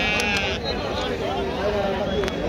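Sheep bleat at a busy sheep and goat market, several wavering calls rising over a dense crowd murmur with people talking throughout.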